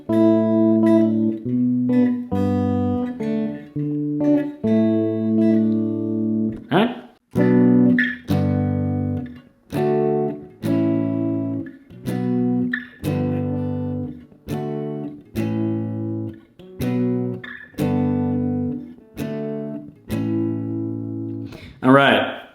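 The riff of mgk's song cliché, played on a lone guitar as a steady run of plucked, ringing notes and short phrases, with brief pauses between repeated figures.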